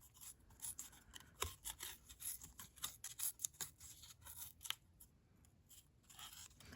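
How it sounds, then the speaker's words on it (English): A scrap of paper being torn by hand for journal crafts: quiet, close, rapid ripping and crinkling bursts that thin out toward the end. "I'm gonna rip this one."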